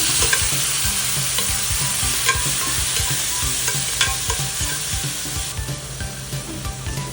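Beef innards sizzle and fry in a pan while a utensil stirs them in steady, repeated scrapes, close and loud with no talking over a continuous hiss.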